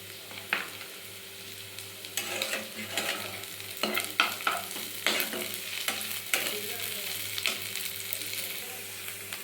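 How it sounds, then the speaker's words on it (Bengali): Onions and green chillies sizzle in a pan with frequent scraping stirs, irregular clattering strokes over a constant close frying hiss and a low steady hum, no voices present. "পেঁয়াজটা খুব সুন্দর করে ভেজে নেব।"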